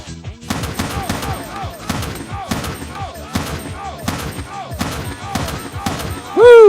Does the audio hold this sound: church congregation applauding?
no